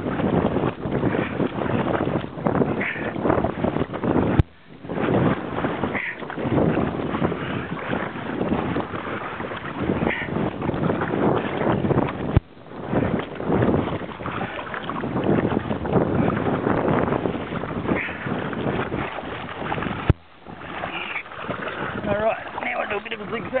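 A boat rides side-on to the sea swell, with continuous heavy wind buffeting and engine and water rumble throughout, broken by a few brief dropouts, while people talk underneath.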